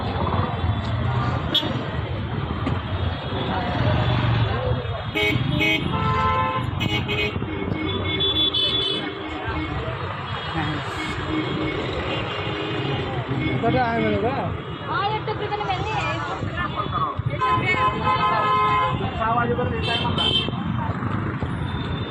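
Busy street traffic in Pandharpur, India, with engines rumbling and repeated car horns honking, heard steadily throughout, with people talking over the noise.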